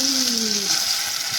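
Chicken pieces dropped into hot oil for a spicy kanthari chicken set off a steady, close sizzle of frying, with a couple of brief tonal scrapes near the start and no talk.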